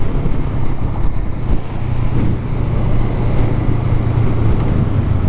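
Honda Rebel 500 motorcycle carrying two riders onto the freeway, a steady low engine drone with road and wind rush filling the whole stretch, loud and continuous with no talk.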